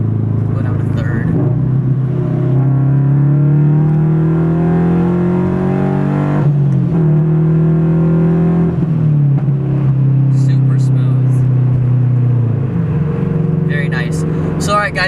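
Subaru BRZ engine revving inside the car as the driver shifts through the gears, a loud droning pitch that climbs, drops at each shift and climbs again, close and continuous throughout.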